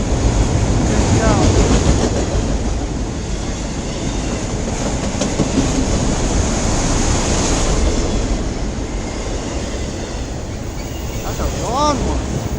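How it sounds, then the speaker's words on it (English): A long CN M301 westbound mixed freight train rumbles steadily past at close range in Emmett, Michigan, with continuous wheel and railcar noise, clickety-clack, and a few faint squeals near the end. "a CN M301 westbound train"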